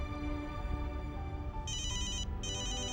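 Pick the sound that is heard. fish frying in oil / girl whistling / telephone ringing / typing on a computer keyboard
telephone ringing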